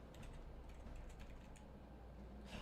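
Quiet rapid tapping of computer keyboard keys, a dense run of soft clicks over a faint steady hiss, with no voices.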